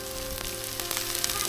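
Rib eye steak cooking with beef tallow on a Blackstone griddle under the closed lid, a steady muffled sizzle with faint crackles and a constant hum.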